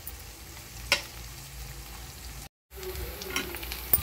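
Onions and curry leaves sauté quietly in a pan with a soft, steady sizzle, broken by a brief moment of silence midway and a few faint clinks.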